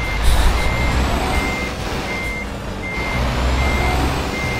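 Truck reversing alarm from a driving video game: a steady electronic beep repeating in regular pulses over a constant low engine rumble, fairly loud and close.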